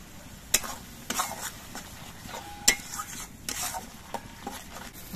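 Spice paste with salt and a little sugar fried in a pan for a prawn and pointed gourd dish, soft sizzling under spoon scrapes and a few sharp metallic clinks against the pan.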